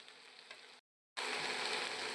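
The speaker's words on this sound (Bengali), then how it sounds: "সবজিগুলো প্রায় ভাজা ভাজা হয়ে এসছে।" Vegetables for chowmein fry in a pan, a soft close sizzle that cuts out briefly then resumes louder and steady.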